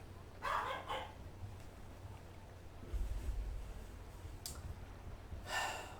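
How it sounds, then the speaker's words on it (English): Dogs in the video game Jade Empire give a few scattered barks and snorts at moderate distance, with quiet stretches between them. "One of these days, I'm gonna kill those dogs."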